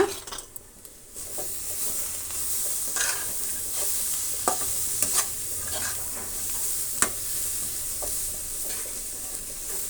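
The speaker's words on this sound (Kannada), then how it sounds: "ಸ್ವಲ್ಪ ಹೊತ್ತು ಅಂದರೆ ಒಂದು ನಿಮಿಷದಷ್ಟೊತ್ತು ನಾವು ಫ್ರೈ ಮಾಡ್ಕೊಳ್ಳೋಣ ಟೊಮೆಟೊ ಕೂಡ" Chopped tomatoes fry in a hot pan while a spoon stirs them for a carrot palya, giving a steady close sizzle broken by several sharp scraping and clinking strokes against the pan.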